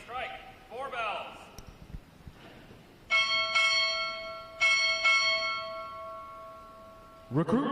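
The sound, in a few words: ship's bell struck four bells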